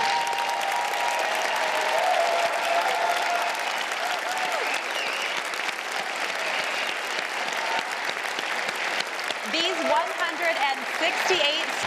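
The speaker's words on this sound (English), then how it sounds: "Please give a round of applause" Sustained applause from a large crowd at an awards ceremony, a dense steady patter of clapping that continues throughout, with some voices faintly mixed in.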